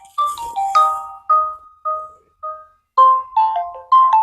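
A loud electronic phone ringtone plays a bright, repeating melody of chiming tones, close and clear, with no voices.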